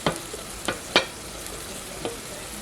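Onions stirred in a hot pan for turkey dressing, with several distinct scraping stirs over a low steady sizzle.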